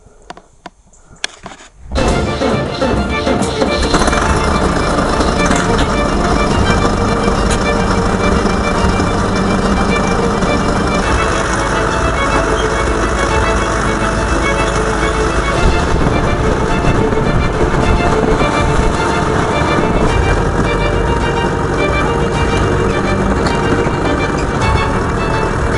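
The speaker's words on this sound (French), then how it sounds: "je vais vous poser dans le tracteur et je vous retrouve sur la route" A farm tractor driving on a road after field work, its engine a steady loud drone with constant rumble, close and continuous after a brief quieter start, with some talk early on.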